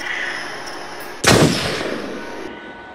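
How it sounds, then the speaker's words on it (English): A single loud, sharp gunshot in the video game Until Dawn cracks out and rings into a lingering reverberant tail, standing alone against a steady background hum. "Gunshot."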